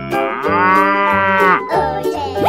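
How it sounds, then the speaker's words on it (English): A cartoon cow lets out a long, drawn-out moo, loud and close over a bouncy children's music track with regular beats. "Cow."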